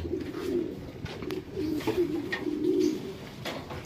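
Pigeons coo in soft, low, repeated rolling calls, fairly close, over faint background noise.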